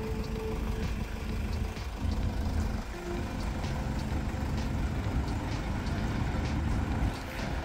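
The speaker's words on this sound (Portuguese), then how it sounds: "Vai lá agora e coloca ela de ré e sai sem frear, pra gente ver o balanço da suspensão." A car rolls backward down a ramp without braking during a shock absorber and suspension test, its engine a steady close rumble throughout with faint knocks and clunks, and no voices.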